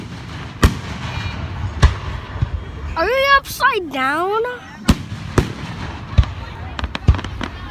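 Fireworks bursting at a firework show, sharp loud bangs scattered irregularly across the clip, with a child and an adult talking in between.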